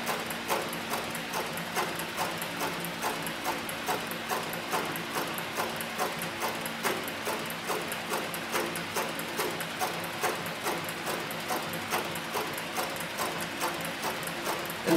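An industrial leather sewing machine with a size 328 needle stitches steadily, a fast, even mechanical ticking that repeats throughout, close and moderately loud with no talking.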